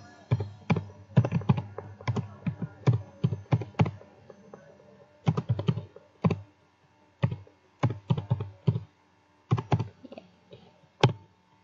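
Computer keyboard typing a search keyword, bursts of quick, close key clicks in short clusters separated by brief pauses, with no voices.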